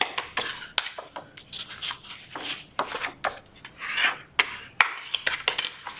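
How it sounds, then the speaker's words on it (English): Burnishing tool rubbed firmly along folded lines on paper for a folio accordion book, giving close, irregular scraping and rasping strokes in short bursts, alone with no talk. "let's go ahead and get that burnish down. Get our lines reburnished."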